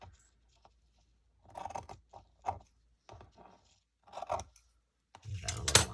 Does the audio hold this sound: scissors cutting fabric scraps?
yes